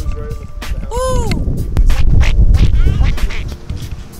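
A goose at a San Diego spot gives a quick honking quack over steady outdoor rumble and wind, with footsteps and bustle close by.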